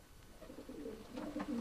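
A racing pigeon cock gives a soft, low cooing call that swells and repeats close by, alone without talk.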